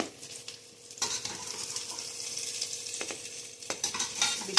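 Jackfruit pieces for biryani sizzle and fry in a pan, with steady stirring and occasional scrapes and clinks of a utensil against the metal throughout; no one speaks.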